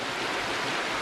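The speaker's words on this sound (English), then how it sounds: "The water seems to have picked up a fair lick of speed on its journey from north to south." Fast water rushing through a large overgrown railway culvert, a dense continuous hiss and roar, close and loud throughout the brief moment.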